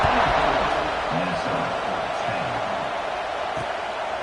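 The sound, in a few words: stadium crowd buzzing in football video game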